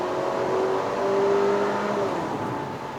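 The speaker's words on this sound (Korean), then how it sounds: "지금 아마 이 엔진 소리가 이제 녹음이 잘 됐을 것 같은데" A 2.0-litre turbocharged Infiniti Q30S engine pulls under acceleration with a steady, low, sporty drone and a thin rising whine layered on top, held for a few seconds without talk.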